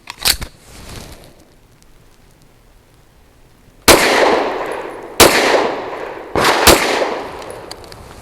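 Grand Power Q100 Mk23 pistol firing Winchester Silvertip 115 grain rounds: one sharp, loud report near the start, then after a quiet gap three more close shots spaced about a second and a half apart, each with a ringing tail.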